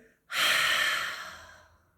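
A person takes one long, deep breath during a breathing exercise, a close, loud airy rush that swells quickly and then slowly tapers off.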